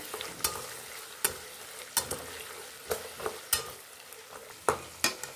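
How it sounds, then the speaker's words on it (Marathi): Ginger-garlic paste sautéing in a pan for poha, with a continuous sizzle broken by sharp, regular spatula scrapes about once a second, close and clear with no talking. "आता याच्यामध्ये अद्रक लसूण पेस्ट करून घेतली आहे ती टाकून घेणार आहे। त्याला पण व्यवस्थित चांगलं परतून घ्यायचं आहे।"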